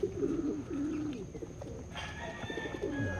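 Pigeons coo softly and repeatedly in low rolling calls, quiet and steady over a faint hiss of background noise.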